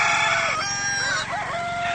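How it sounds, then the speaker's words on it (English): A lone rooster crows loudly and close by, one drawn-out cock-a-doodle-doo with a rising then wavering call, heard on its own without talk. "you still would hear a lone rooster crow."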